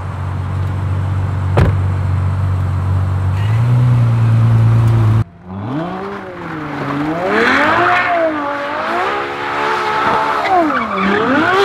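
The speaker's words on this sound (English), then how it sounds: "We're gonna see who could drift the best, who could do the most donuts" A Ferrari 488 Pista and a Ferrari 812 Superfast rev hard, then sweep through drifts and donuts, engine pitch rising and falling in loud, continuous waves with a steady roar beneath, and a brief exclamation from a person.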